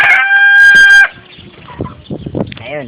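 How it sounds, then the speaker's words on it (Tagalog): A rooster crows loudly and close by, one long sustained call that cuts off sharply, followed by softer clucking and scattered fowl noises, with faint voices nearby. "Ang manok."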